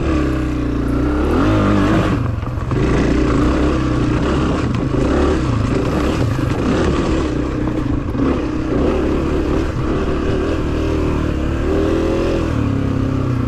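A Honda CRF250F dirt bike stuck in second gear during a hare scramble race holds a loud, continuous engine roar, revving hard and steadily up close with small surges throughout.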